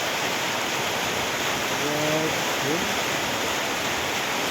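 Continuous rushing water of a mountain river in Mindanao, Philippines, fills the clip with a steady, broad hiss, while a voice speaks briefly partway through.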